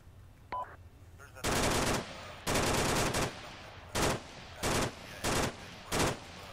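Automatic gunfire in a military shooter video game: several loud, sustained bursts in quick succession, each roughly half a second to a second long, separated by short gaps.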